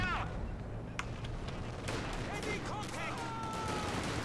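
Rapid bursts of machine-gun fire from a Company of Heroes 2 match, crackling under steady battlefield rumble with scattered distant shots and whistling shells, while a commentator talks over it.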